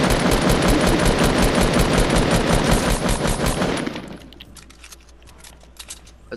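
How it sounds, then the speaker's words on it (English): Rapid continuous automatic gunfire in a video game shooting at an enemy, loud and dense for about four seconds, then breaking off into a few scattered clinks and sharp clicks. "Start shooting at him, just start spamming like shit."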